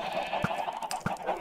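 Pink sheep in Minecraft bleat twice in short, clear bursts about half a second apart, close by over a faint steady game background.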